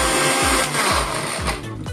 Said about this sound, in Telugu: మిక్సీ పట్టుకోవాలండి.